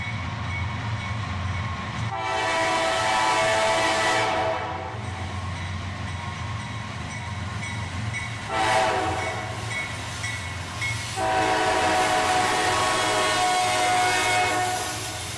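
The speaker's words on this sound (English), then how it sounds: "this NS train would arrive with a bit of foreign power. 2 NS locomotives sandwich a Union Pacific unit." Norfolk Southern freight train with two NS locomotives sandwiching a Union Pacific unit, rumbling past loud and near, with long horn blasts sounding several times over the steady roar of the cars.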